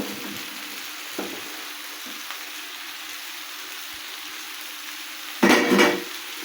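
Round-cut bottle gourd pieces tossed into sautéed spices in a pan for an egg and gourd curry, with a steady low sizzle, a few soft clinks, and a loud, brief hissing burst near the end as the pieces are stirred in.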